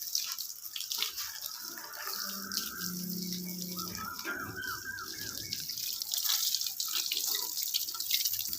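Water from a hose pipe sprays steadily over a vehicle being washed, a continuous hiss and splatter close by, with faint voices briefly underneath.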